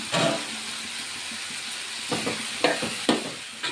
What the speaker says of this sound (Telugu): ఇంకొక నిమిషం ఆయిల్లో మగ్గితే సరిపోతుందండి